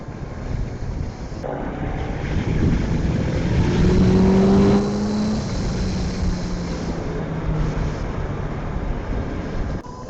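A Honda CBR 650F with a 650cc inline-four engine accelerating on a test ride, its engine note rising in pitch through the gears under steady wind rush, loud and close throughout.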